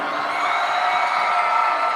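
A basketball finals crowd cheering in an arena, a steady broad roar of voices with whoops, loud and sustained throughout.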